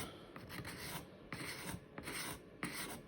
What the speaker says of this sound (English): most of the carving with the gouges